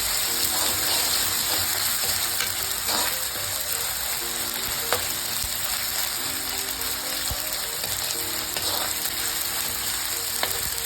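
Ginger paste fries in a pan for an Andhra chicken curry, giving a steady, close sizzle with occasional soft scrapes and stirs throughout and no voices.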